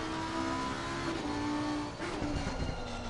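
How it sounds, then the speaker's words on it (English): A Lamborghini race car in a Brands Hatch racing video game drops down through the gears, its engine note steady and fairly loud with shifting pitch bands throughout the short stretch. "Down through the gears."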